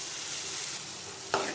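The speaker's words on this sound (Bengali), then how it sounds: "ভালো করে নাড়তে হবে।" Chickpeas frying with turmeric, salt, cumin and coriander powder in a pan while being stirred, giving a steady close sizzle with a brief scrape of the spoon near the end.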